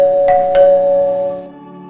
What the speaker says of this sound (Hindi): वह घर का डोरबेल बजाती है